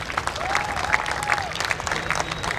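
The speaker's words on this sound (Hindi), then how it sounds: "इनके लिए जोरदार ताली" A crowd at the closing ceremony of an all-India inter-university soft tennis tournament gives the organising team a burst of steady, dense clapping that fills the short moment, fairly close and loud, without talking over it.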